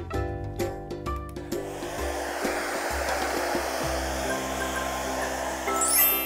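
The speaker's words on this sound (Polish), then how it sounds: "Ja właśnie teraz użyję suszarki do włosów." A hair dryer runs steadily close by, drying wet paint on a base layer, a constant whooshing hum with the motor pitch shifting slightly as it moves, broken by a few brief clicks and knocks near the start.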